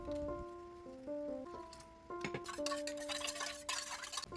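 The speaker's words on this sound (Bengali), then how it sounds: "একটি বাটি নিয়ে ওর মধ্যে চার চামচ দই চিনি চাট মশলা আর জল দিয়ে ভালোভাবে মিশিয়ে রাখবো" Yogurt is mixed with sugar, chaat masala and water in a bowl, making wet squelching spoon strokes that grow busier over background music tones.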